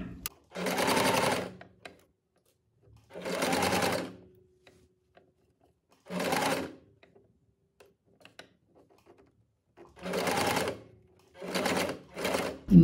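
A sewing machine stitches the finishing seam along the hem of a boat-neck blouse, running in five separate bursts of rapid, steady stitching with quiet pauses in between.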